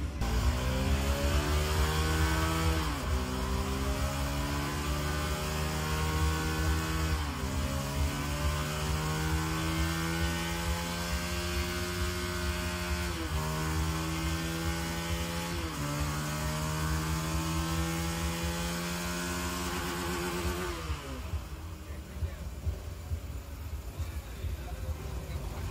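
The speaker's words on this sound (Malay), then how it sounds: "diorang ada buat dynoran. Nak tengok, nak tunjuk berapa horsepower motor ni boleh pergi" A motorcycle engine on a dyno revs hard through repeated rising sweeps, each climb cut off and restarted, loud and continuous, before dropping to idle near the end.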